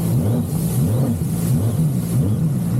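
A Seadoo GP Runabout jet ski fitted with a homemade cool air intake drones steadily as it accelerates, its engine tone rising and falling in a repeating wavy pattern, loud and close throughout.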